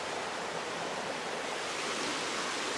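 Steady rushing creek water flows continuously at close range, a dense even wash of sound with no pauses and no voices.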